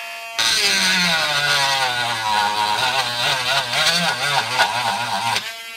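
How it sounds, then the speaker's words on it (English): A Harbor Freight Drill Master rotary tool grinds into wood with a loud, close, continuous high-pitched motor whine whose pitch wavers and dips as the bit bites. No one talks. "It ground into the wood."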